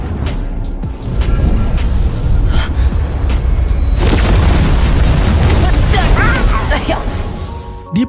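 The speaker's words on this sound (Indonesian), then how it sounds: "Di percobaan pertama meledak yang mana berarti Lindong masih belum berhasil" A loud animated explosion booms and rumbles for several seconds, a dense, sustained blast with crackling bursts, while a narrator talks over it.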